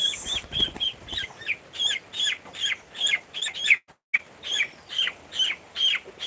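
Rhythmic series of high chirps and peeps from chickens, repeating steadily with brief gaps, fairly close, with a short silent break midway.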